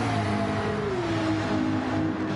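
A Porsche race car engine in a racing video game holds a loud, continuous revving drone whose pitch slides gradually downward, with no voices.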